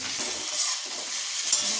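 Food sizzles in a hot pan with soft stirring scrapes, a brief steady crackle with no talking.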